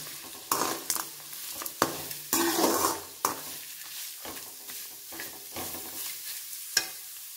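Grated beetroot and coconut frying in oil are stirred in a pan for a Chettinad thuvaiyal. Bursts of sizzling rise and fall with each scraping stir, close and fairly quiet, with no talk.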